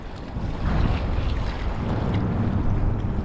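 Strong wind buffets the microphone in a steady low roar while fishing near Kyiv, with water sloshing faintly beneath it and no voices.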